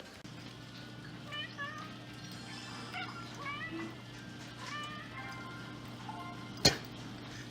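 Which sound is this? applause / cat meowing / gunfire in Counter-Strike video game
cat meowing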